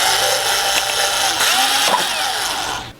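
A drill bores a hole in a cup for a straw, whirring loudly and steadily with a slight change in pitch, then cutting off at the end.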